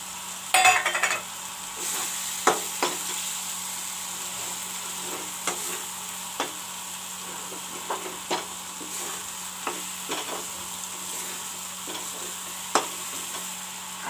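Chopped tomatoes fry in browned masala in a pan for a broccoli dish, with a steady soft sizzle close by and periodic scrapes and taps of a stirring spoon.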